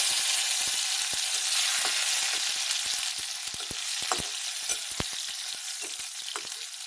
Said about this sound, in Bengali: তেল গরম হয়ে গেছে, সবার আগে কিশমিশ ভেজে নেব